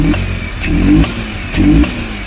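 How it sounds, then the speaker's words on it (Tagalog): A Suzuki DA52 with an F6A engine that misfires, revved in short bursts: a rough, uneven idle swells into two throttle blips with popping, stumbling pulses, close and loud, with no talk. "So try nating ibirip ang makina."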